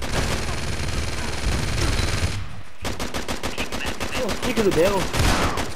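Dense, loud automatic gunfire in the Uncharted 3 multiplayer beta co-op Syria level, a continuous burst, a brief gap, then rapid repeated shots, with a voice speaking briefly over the fire.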